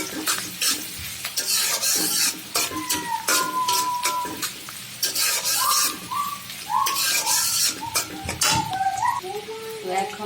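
Onion and garam masala frying in a pot for pulao, with a steady loud sizzle and repeated scrapes and clinks of a spoon stirring against the metal, no voices.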